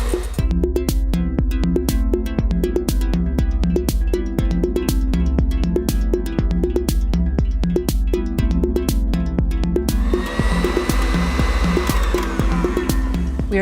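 An electric mixer whips buttercream frosting for a chocolate stout layer cake, whirring in a steady, close, motorized drone with a faint rhythmic clatter of beaters against the bowl.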